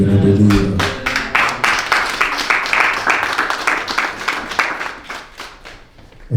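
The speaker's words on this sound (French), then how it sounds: "acclamons pour la parole que nous venons de lire" Congregation clapping in a church service, a brisk rhythmic run of claps that starts just after a voice ends and carries steadily for several seconds before thinning out.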